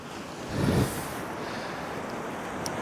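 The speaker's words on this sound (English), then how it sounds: "The wind's picked up a bit" Blustery wind on a cold North East winter shoreline at night during cod fishing, a steady broadband rush with a brief stronger gust early on and surf-like noise underneath.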